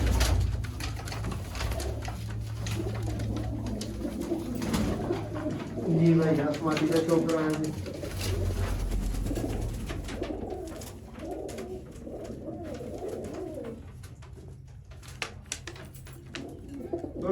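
Sialkoti pigeons coo in soft, repeated throaty calls, rising briefly in a burst of overlapping coos midway, while someone speaks intermittently over them.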